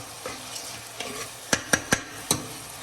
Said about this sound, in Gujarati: આને 2 થી 3 મિનિટ ટમેટાના પલ્પ નાખ્યા પછી હલાવવાનું